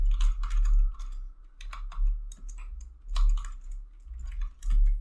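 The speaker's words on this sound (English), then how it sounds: "So we typed this command." Typing a command on a computer keyboard, with quick close key clatter in uneven bursts and short pauses, loud and alone.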